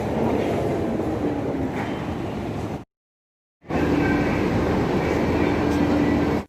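Delhi metro train riding, a steady loud rumble and clatter of the carriage with brief squealing tones, cut by a short silent gap midway.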